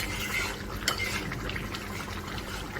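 Pangas fish and bitter gourd stirred in a pan over high heat, a steady scraping and sizzling texture with one brief clink of the utensil, close and moderately loud with no talk.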